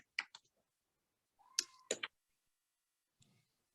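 A computer mouse clicks sharply twice near the start and twice again a little later, crisp and close, with a faint electronic tone and a soft rustle in between, all in an otherwise quiet room.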